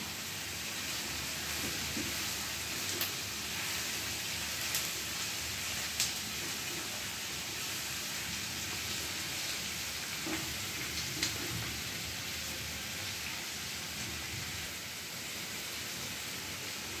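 Finely minced garlic and onion frying in hot oil for a lote fish jhuro, a steady close sizzle with a dense, even hiss and a few faint pops, no voices.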